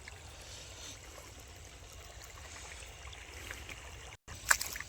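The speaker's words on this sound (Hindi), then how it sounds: "ये देखिए भैया पानी गिर रहा है।" Water pours from an irrigation pump pipe into a field, a steady low rushing and trickling that runs throughout, broken by a brief dropout and a sharp knock near the end.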